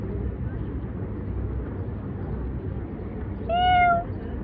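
A cat gives a single clear meow partway through, over a constant low rumbling background like traffic or an engine.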